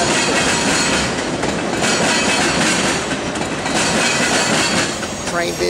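A CSX Q464 freight train reverses near Hamlet, rumbling loudly and continuously with rhythmic wheel clatter, metallic creaks and a faint squeal near the end.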